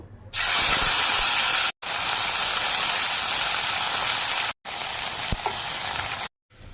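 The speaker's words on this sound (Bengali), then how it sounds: "এবার আমি মোরলা মাছগুলো যে ধুয়ে রেখেছি, ড্রাই মোরলাগুলো আর কি, ওগুলো একটু ফ্রাই করে নেব।" Washed dried morla fish fry in hot oil in a pan, a loud, dense sizzling hiss that cuts out briefly three times before resuming, close and without talk.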